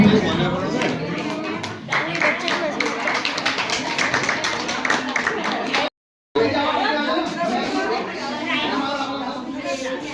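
Attendees at an open village council meeting clap by hand, a loud, close, irregular patter under chatter and voices, with one brief dropout partway through before clapping resumes.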